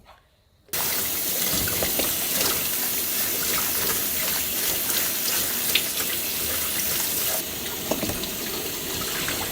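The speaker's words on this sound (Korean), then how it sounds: "이제 가서 씻어 올게요. 이게 절였다 씻으면 정말 깨끗하게 잘 씻겨져요" A kitchen tap gushes into a sink as salted radishes are rinsed, the water starting suddenly after a brief quiet moment and then running steadily and close, with small splashes and knocks over the flow.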